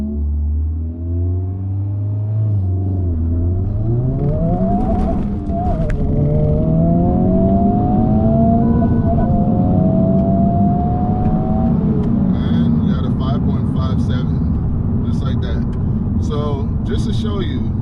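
A manual, front-wheel-drive Honda Civic Type R FL5 accelerates hard through the gears, its engine note climbing in pitch and then dropping at each shift, followed by steady road rumble, with brief speech near the end.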